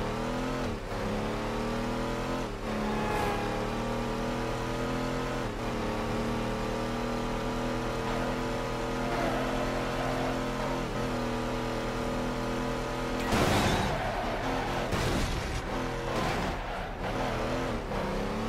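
A muscle car engine in the Midnight Club 3: DUB Edition Remix racing game drones loud and steady throughout, rising and falling in pitch as it revs. Brief crashes or gear shifts cut in near the end.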